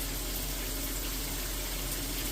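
Water running and spraying from the tap of an RV tankless water heater, a steady loud rushing hiss with no change or pauses over the short span.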